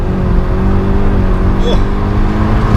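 Alfa Romeo 4C wheelspin in winter conditions, a steady engine drone with tonal whine held throughout, a brief higher chirp near the middle, loud and close with no voices.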